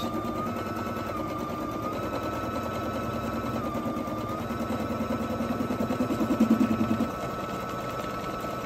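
A sewing machine runs a quick, non-locking basting stitch, giving a steady close motor hum that speeds into a faster, rhythmic chattering burst toward the end.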